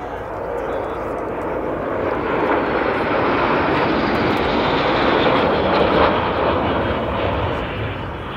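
A Corsair warplane's piston engine roars steadily at an airshow, a loud, broad rumbling drone that swells slightly as it prepares for takeoff.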